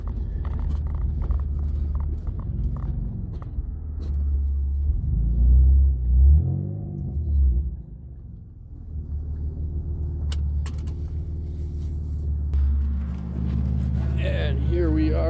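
A car rumbles low and close from inside as it pulls off the road onto a small lakeside pull-off, the engine note shifting as it slows, with someone talking over it.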